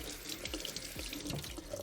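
Water runs steadily from a kitchen tap over beans being rinsed in a sink, a continuous close splashing hiss with small shifting gurgles and drips throughout.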